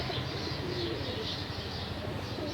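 Pigeons feeding give soft coos and scattered chirps, low and fairly faint, over a steady wash of background noise with no talking.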